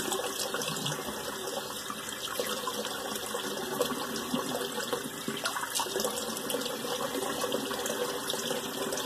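Steady running water from a tap, a continuous gushing rush with slight splashing, fairly close and constant throughout.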